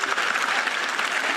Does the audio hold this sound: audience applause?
yes